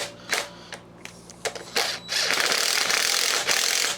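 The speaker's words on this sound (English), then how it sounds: "this is just a little driver, basically a screwdriver." A small power driver turns screws on a Briggs & Stratton engine with a camshaft failure, giving short whirring spurts and ratcheting clicks, then a longer steady buzzing run, close and fairly loud.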